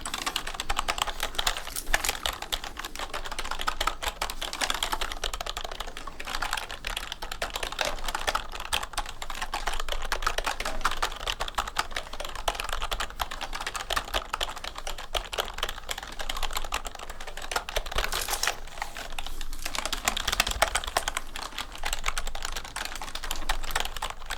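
Rapid, continuous clacking of keys on a small compact RGB gaming keyboard, typed steadily up close with no voices, just the busy patter of keystrokes.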